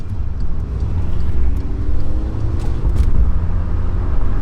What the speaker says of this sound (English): You hear a little more burble in the shifts, which is very nice.